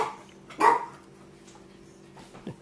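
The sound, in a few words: dog barking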